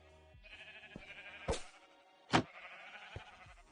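Brown sheep bleating in several short, close calls, with two louder sharp bleats standing out against a quieter continuous baa in the background.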